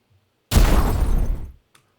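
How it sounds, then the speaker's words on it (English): A flying buzzer robot blows up in a video game, a sudden loud crunching explosion that bursts in, holds for about a second, cuts off, then ends with a faint tick. "So here's flying buzzer destroyed explosion."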